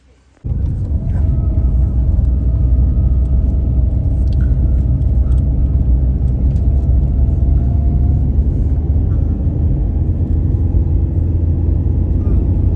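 A car drives along a road in Belarus toward the market, its steady low rumble of engine and tyres constant and close from inside the cabin after a sudden start.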